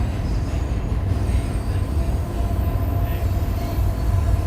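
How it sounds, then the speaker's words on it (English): A train passes close by in a loud, steady roar of rumbling wheels with a squealing edge, continuous throughout with no voices heard. "I cannot hear you over this train, so you're going to have to really shout"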